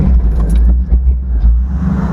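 LS-swapped GMC Sonoma truck engine idling cold after a pop start, a loud, close, deep rumbling drone with slight uneven pulses, no talking.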